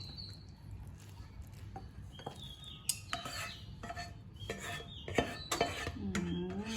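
Ceramic dishes and metal utensils clink and scrape as a keto vegetable dish is readied for the oven, scattered light knocks growing busier toward the end, with no talking.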